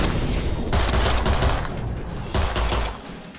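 Gunfire in the video game Blacksite, a dense, loud wash of overlapping shots and booms filling the whole moment, swelling in two heavy surges with no clearly separate pistol cracks.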